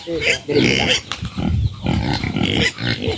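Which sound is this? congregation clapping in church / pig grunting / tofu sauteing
pig grunting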